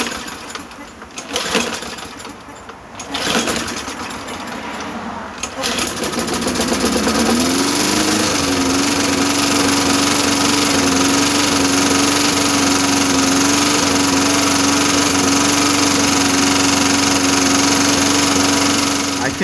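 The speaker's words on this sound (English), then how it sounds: "So I'm gonna show you how to fix a surging lawnmower." A surging lawn mower engine starts up after some handling noise, then runs loud and close with a steady drone that wavers slightly in pitch; a voice is heard early on.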